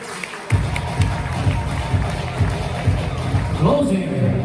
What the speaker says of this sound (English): how about a nice round of applause for Mr. Rich Gaspari.